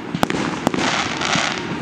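Fireworks exploding in a large display with a big finale: two sharp bursts stand out over a dense, continuous crackling and rumbling barrage, loud and close, with no voices.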